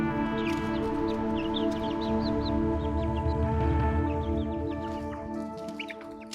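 Young chickens released from their coop cluck and peep in a busy overlapping chorus, many short calls close by with a steady low hum beneath.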